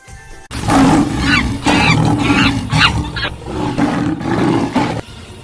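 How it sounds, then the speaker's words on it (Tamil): Tiger Shere Khan roars in the 1940 Jungle Book cartoon: a loud, sustained, growling roar lasting about four and a half seconds, rising and falling in several surges, with no talk over it. "அந்த குழந்தையை ஷேர்கான் என்ற புலி பார்த்து விட்டது."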